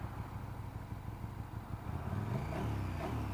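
A 2017 KTM 1290 Super Duke R on its stock exhaust, set to sport mode, idles with a low steady rumble that swells into a fuller, louder drone near the end, heard fairly close.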